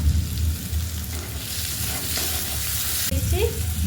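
Onions and tomatoes sizzle with salt in a pan for mutton curry, a close, steady frying hiss with continuous stirring scrapes and a low rumble underneath.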